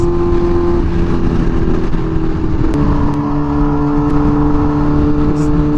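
Kawasaki Ninja H2 motorcycle engine running loud and close, a sustained droning tone that shifts in pitch partway through as the revs change, with steady mechanical roar throughout.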